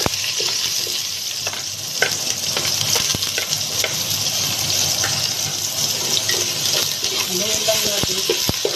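Onions fry in a pan for papaitan with a steady, dense sizzle that stays loud and close throughout, with faint scattered clicks of utensils.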